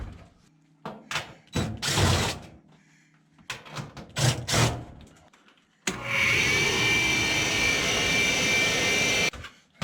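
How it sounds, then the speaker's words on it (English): A motor on an RV runs abnormally, starting with intermittent bursts and clunks, then a loud steady whining roar for several seconds before cutting off. "Sounds like a motor."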